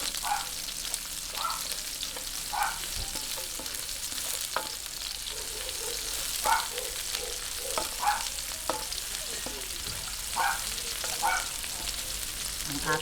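Chopped onion sautéing in a pan for pancit miki guisado gives a steady, close sizzle with a run of light stirring scrapes and clinks throughout, and no voices.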